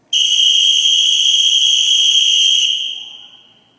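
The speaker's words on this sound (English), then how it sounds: "You will hear a long whistle from one of the coaches." A coach's long whistle blown at an elementary school fitness event, one loud, piercing, steady blast lasting nearly three seconds before fading out.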